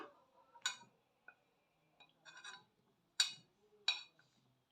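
Carrot pieces drop into a salad bowl with a few sharp, quiet clinks and taps spaced irregularly, close by in an otherwise quiet kitchen.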